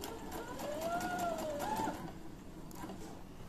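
A sewing machine stitches fabric up to a corner, a fast close rhythmic needle clatter with a faint whine rising and falling, softening toward the end.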